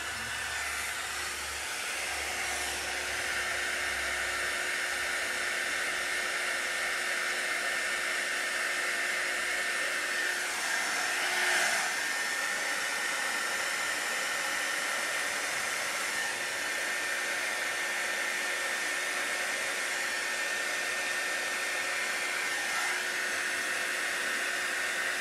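A hair dryer blows steadily and loudly at close range for the whole stretch, used to push acrylic paint around in a fluid art pour, a continuous broadband whoosh with slight wavering and no voices.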